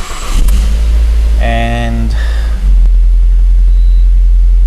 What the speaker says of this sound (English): we can start the car now